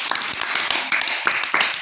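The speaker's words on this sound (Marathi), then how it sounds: "त्याच्यासाठी जोरदार टाळ्या वाजवायच्या" Children clap together in a short, busy burst of overlapping hand claps, fairly close and steady for under two seconds.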